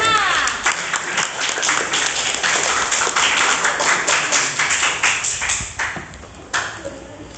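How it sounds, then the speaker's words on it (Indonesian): A classroom of students gives group 5 a loud, dense round of clapping that carries on steadily for several seconds, then thins out and trails off near the end. "Tepuk tangan untuk kelompok 5."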